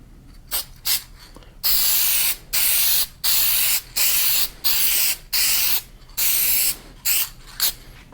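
Spray paint can coating car emblems black, hissing in about eleven close bursts of roughly half a second to a second each, separated by short pauses, with no talking.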